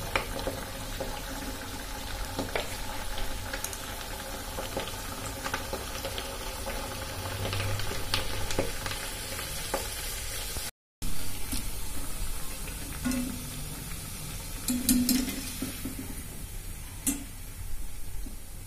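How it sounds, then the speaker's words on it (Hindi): Kachori puris deep-frying in hot oil give a continuous soft bubbling hiss dotted with small crackles and pops, steady and moderately close throughout. "पूरी ये फ्राई हो गई है और कितनी फूली फूली है। तो अब इनको हम निकाल लेंगे और इधर दूसरी पूरी डाल देंगे"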